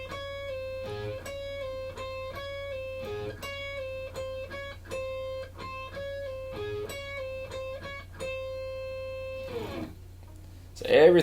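A guitar slowly works through a riff: clean, sustained notes repeating in a steady pattern, with a louder strummed burst right at the end and no voices.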